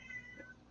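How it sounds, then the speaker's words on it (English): A pet cat gives a single drawn-out meow, faint and somewhat distant, with a rising and falling tone lasting under a second. "And then my fucking cat, you can probably hear her right now."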